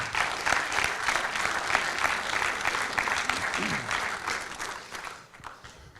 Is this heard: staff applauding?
yes